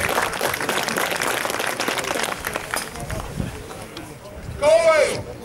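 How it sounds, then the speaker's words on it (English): A strongman competition crowd applauds and cheers for a competitor at a 250 kg farmer's walk event. The clapping is fairly loud at first and fades, then a voice comes in over a microphone. "give him a round of applause, guys"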